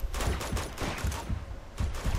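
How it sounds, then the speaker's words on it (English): Shotgun fire in Uncharted 2, several loud, punchy blasts spaced irregularly across a couple of seconds, with no voices. "you're shooting with a shotgun from that far"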